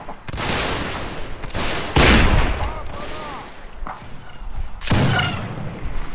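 Musket volley gunfire in a video game Civil War-era line battle, with dense overlapping shots and booming blasts crackling continuously, loud and close, and voices faintly shouting beneath.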